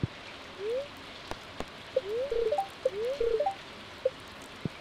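Rain falls in the Stardew Valley farming game as a faint, steady patter, with chirpy, bird-like tones and a few sharp clicks standing out on top.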